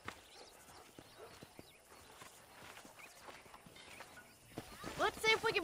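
Faint, steady clip-clop of horse hooves in Red Dead Redemption, with a brief louder whinny-like call near the end.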